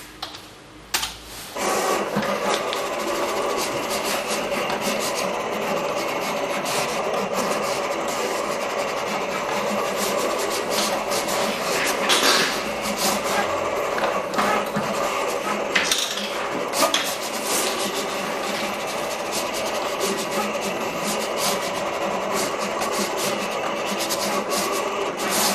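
A vinyl cutting machine cuts heat transfer vinyl for a t-shirt, making a continuous busy whir and scratchy rasp that runs steadily for the whole stretch at moderate volume without talking.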